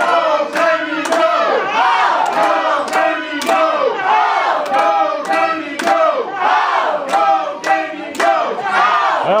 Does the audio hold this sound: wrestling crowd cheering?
yes